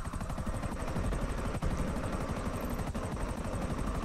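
A helicopter in the GTA 5 video game near a trailer park in Sandy Shores, its rapid rotor chop pulsing loud and continuous for the whole stretch with no voices.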